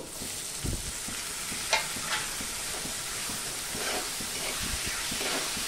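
Chopped tomato tossed onto sautéed onion in a hot pan, a dense continuous sizzle with soft stirring scrapes and a few brief knocks of the spoon.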